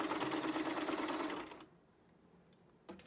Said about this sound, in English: I'm going to fold it over again, and I'm just going to top stitch it down